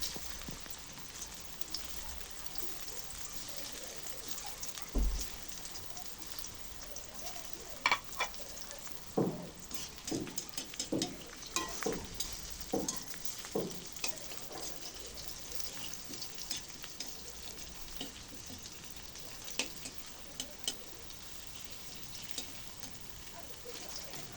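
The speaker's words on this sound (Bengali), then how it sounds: "আগে থেকে মাখিয়ে রাখা আলুগুলো লবণ হলুদ দিয়ে তেলে ভেজে নিব লাল লাল করে" Potato pieces coated with salt and turmeric fry in a little oil, giving a steady low sizzle broken by sharp clicks and scrapes as they are stirred, with no talking.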